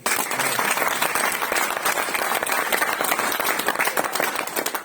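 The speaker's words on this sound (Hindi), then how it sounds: "अपने लिए तालियां कर दो" Audience applause answering a call to clap for themselves, a dense, steady burst of many hands clapping that stays loud and unbroken throughout, with no talk over it.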